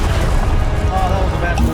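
A fire spell cast in the Hogwarts Legacy video game bursts out as a deep, boomy whoosh that sits within dense game effects and a voice.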